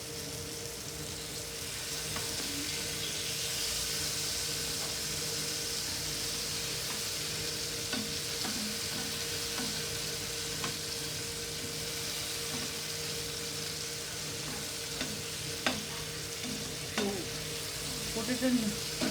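Yam slices deep-frying in oil give a steady, even hiss of sizzling bubbles, close and continuous, with a few sharp clicks and crackles scattered through.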